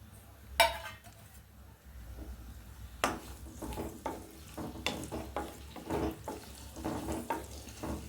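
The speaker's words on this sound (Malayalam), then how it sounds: "വെളിച്ചെണ്ണ ചൂടായ ശേഷം ഉള്ളി അരിഞ്ഞത് എടുത്തിട്ടുണ്ട്. അത് അതിലേക്കിട്ട് നമുക്ക് വഴറ്റാം" Chopped onion sautés in hot coconut oil in a pan, giving a faint, steady sizzle with scattered scraping and clinking stir strokes, quiet and close.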